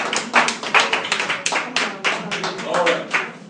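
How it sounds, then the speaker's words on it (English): Audience applause after a thank-you at an evening community support program, a short burst of dense clapping that swells and fades over a few seconds with some murmuring voices mixed in. "can we give yourself a big applause?"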